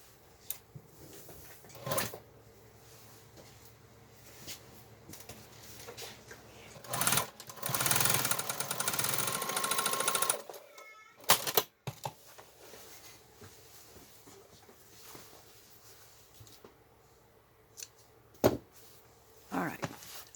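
A sewing machine stitches a seam on a denim shopping bag made from old jeans, running in a sustained burst of about three seconds in the middle of the clip, with brief handling clunks and quiet stretches on either side.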